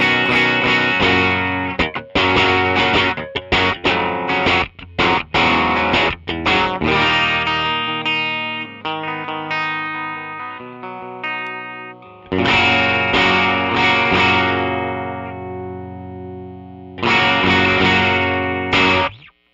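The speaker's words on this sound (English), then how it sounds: "you play and you're getting a lot more distortion because of a thing with the humbuckers" Electric guitar with humbucker pickups played through heavy distortion with the gain turned up, loud sustained chords and riffs in bursts separated by short pauses, no talking.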